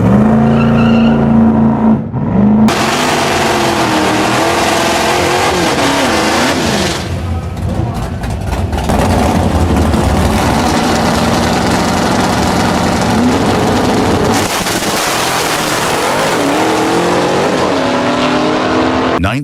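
A 1965 Dodge Coronet 990 muscle car engine runs loud and close for the whole stretch, a steady rumbling drone that surges and shifts with revving, with a brief gap early on and no talking over it.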